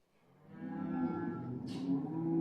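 Cattle mooing in the barn before being let out for the season, a long, loud, drawn-out low bellow that swells and holds, with a brief rustling noise partway through.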